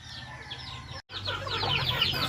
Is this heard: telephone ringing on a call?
no